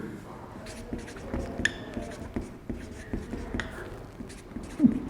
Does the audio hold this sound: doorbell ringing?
no